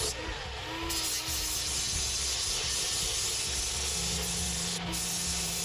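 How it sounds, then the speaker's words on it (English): A vacuum cleaner runs steadily with a constant broad hiss and whoosh throughout, working aboard a boat during a hull refit, fairly faint and unbroken with no talk. "Sorry about the vacuum noise."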